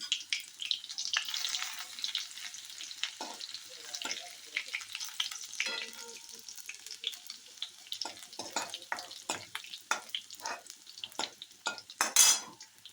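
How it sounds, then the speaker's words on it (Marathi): Garlic fries in a pan for a cauliflower and pea curry, with a soft steady sizzle and frequent clinks and scrapes of a utensil against the pan, close and moderately quiet with no talking. "लसूण छान तळा"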